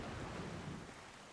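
Storm ambience in The Legend of Zelda: Wind Waker HD: a steady wash of rain with low rumbling thunder, fairly loud and continuous before easing slightly toward the end, with no talking.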